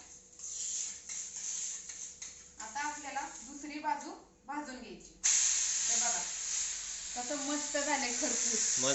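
Tomatoes drizzled with ghee sizzle in a clay pot while being pressed down, a steady hiss that swells louder partway through, with someone talking over it.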